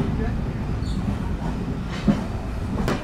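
A Rupsha Bangla Express train runs over the rails near the Kopotakkho river, with a steady low rumble of wheels, a brief thump near the middle, and a faint squeal near the end.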